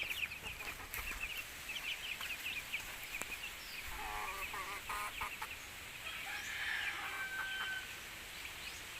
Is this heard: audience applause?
no